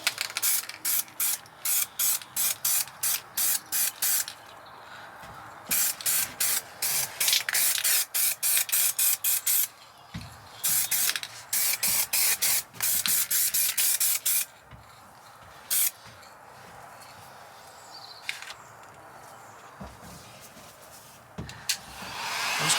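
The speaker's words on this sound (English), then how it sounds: "So we're just going to give it its first coat of primer. Don't put it on too heavy." A spray gun lays a first coat of primer onto interior trim panels, heard as repeated short hissing bursts of fine spray, close and fairly loud, separated by brief pauses, with no talking.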